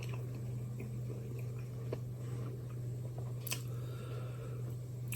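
Close, soft chewing of a hot Yorkshire pudding curry wrap, with quiet wet squishes and occasional bites over a constant low electrical hum.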